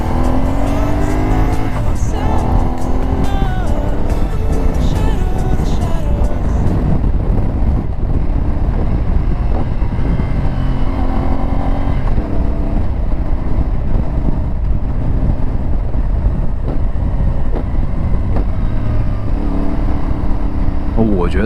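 A CFmoto 450NK motorcycle accelerating and shifting gears on the road, its engine tone climbing in rising sweeps that break at each gear change before a steadier loud drone, with no words spoken over it.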